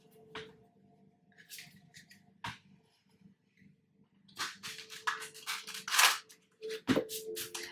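Tarot cards are shuffled in quick bursts, crisp riffling and slapping close up, with brief pauses between sets and a sharp tap near the end.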